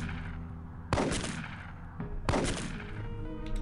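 Two loud gunshot bursts in the video game UFO Aftershock, each a sharp crack with a reverberant tail, over a low game ambience.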